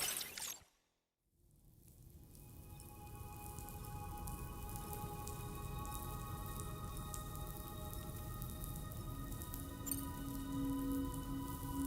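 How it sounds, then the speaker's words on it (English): Steady rain pours down in the video game Death Stranding 2, a dense continuous hiss that cuts out briefly near the start, then returns and holds evenly loud with no voices. "Those raindrops are falling on my head."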